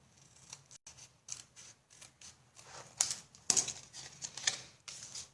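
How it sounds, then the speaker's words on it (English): Scissors snip off excess material for a shadow box, a series of close, crisp cuts in irregular rhythm with rustling handling sounds between them. "and we'll just snip that off."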